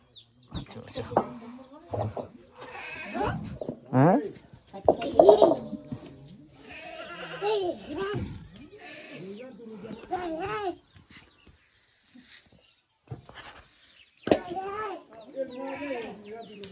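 Goats at a rural hillside home bleating in several nearby calls scattered through the clip, mixed with people talking and some bird sounds.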